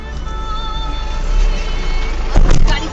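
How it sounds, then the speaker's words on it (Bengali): A car drives along a steep hill street with a steady engine rumble and road noise, swelling as it nears and peaking in a louder burst near the end. "গাড়ি আসছে, গাড়ি তো ওই দিক দিয়ে আসছে"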